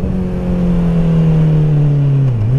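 A Honda CBR650R motorcycle with an Akrapovic exhaust drones loudly and steadily while ridden, its engine note easing down and dipping near the end, with no talking.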